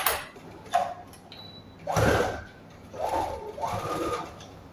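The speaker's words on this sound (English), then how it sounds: "I'm actually stitching on top of the waistband" A sewing machine stitches along the waistband of a pleated skirt in short close bursts, whirring runs separated by brief pauses and small mechanical clicks.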